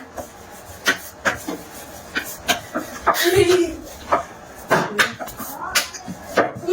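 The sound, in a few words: rolling bati dough with a rolling pin on an oiled board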